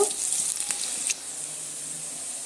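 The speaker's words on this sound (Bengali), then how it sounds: "তেলের মধ্যে দিয়ে দিচ্ছি একটা বড় সাইজের কুচনো পেঁয়াজ পেঁয়াজকে একটু লাল লাল করে ভেজে নেব" Large chopped onion hits hot oil in a wok with a sharp, bright sizzle that flares at first, then settles into a softer, steady hiss, close by.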